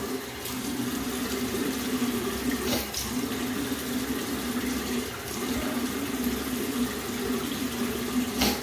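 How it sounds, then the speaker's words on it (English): Water from a bathroom sink tap pours in a steady, close rush while someone rinses their face after shaving, continuing evenly throughout with no talk. "All right, rinse my face here."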